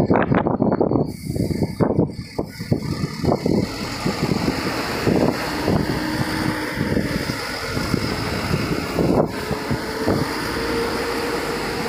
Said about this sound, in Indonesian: Makin malam angin semakin kencang ya.